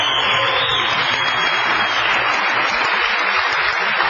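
A crowd applauds steadily after a 2008 racquetball match between Kane and Alvaro Beltran, a dense, even patter of clapping.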